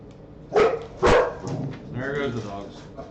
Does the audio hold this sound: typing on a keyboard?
no